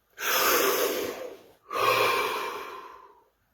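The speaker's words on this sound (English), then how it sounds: "Deep breath." Two long, deep breaths taken during a meditation session, each a close, airy inhale-exhale rush separated by a brief pause, with no talk.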